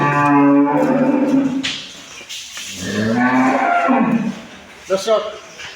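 A large dairy cow lets out a long, deep moo nearby, then a second lowing call follows, with a short sharp noise at the end.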